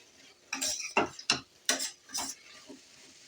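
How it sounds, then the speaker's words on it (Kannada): Beetroot frying in a little oil for a dry palya, heard as five or six separate scraping, sizzling stir strokes in a loose rhythm, close and fairly loud, with no talking. "ಈ ಥರ ಎಣ್ಣೆಯಲ್ಲಿ ಸ್ವಲ್ಪ ಫ್ರೈ ಮಾಡ್ಕೋಬೇಕು"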